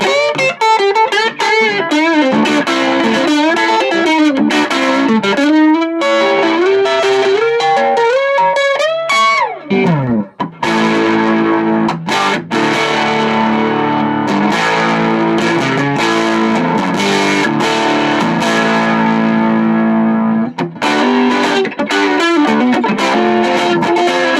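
An electric guitar on its neck pickup plays through a 1960s Beltone AP-14 amplifier, giving a continuous stretch of distorted, sustained notes and chords with bending pitches, loud and alone.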